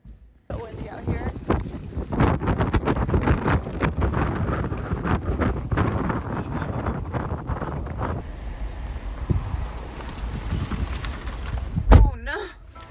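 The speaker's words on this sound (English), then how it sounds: "So windy out here." Strong wind buffets the microphone outdoors in Iceland in a steady, loud roar that continues throughout, easing slightly near the end before a brief gust.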